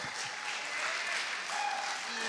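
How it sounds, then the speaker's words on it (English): An audience at a film festival applauds steadily throughout, a continuous wash of clapping heard at moderate distance. "Round of applause, round of applause, round of applause."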